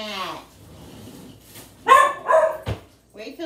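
A dog gives a few short barks close by, mixed in with a person talking.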